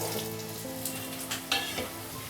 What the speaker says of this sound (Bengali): এবার আলুগুলো ভেজে তুলে নেব।